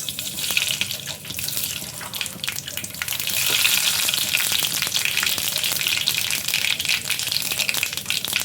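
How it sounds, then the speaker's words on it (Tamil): Hot mustard oil sizzles in a pan before brinjal curry is cooked, with a loud, hissing crackle that swells slightly and stays steady to the end. "இது கடுகு எண்ணெய் காஞ்சிருச்சு"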